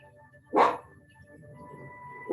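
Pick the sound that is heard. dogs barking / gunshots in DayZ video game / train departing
dogs barking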